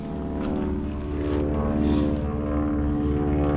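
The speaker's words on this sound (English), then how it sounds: "I got a plane here." Propeller airplane flying overhead above a home vegetable garden in July: a steady, droning engine hum with pulsing low throb, swelling slightly louder as it passes, with no speech.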